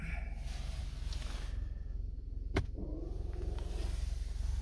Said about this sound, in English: and then park brake is released